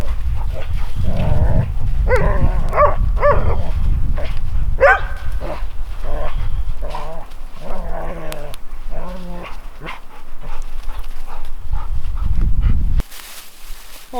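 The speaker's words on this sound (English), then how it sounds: "This is what playing looks like in the dog world." Dogs playing outdoors on a hike, with repeated close barks, growls and yips over scuffling, fairly loud throughout and then a brief drop near the end.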